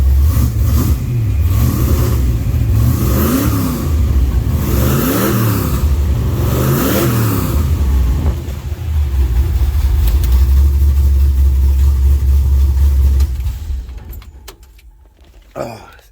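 A 1966 Chevy pickup V8 with long tube headers revs in several sharp, loud blips over a deep idle, then settles into a steady rumble before the engine cuts and fades away.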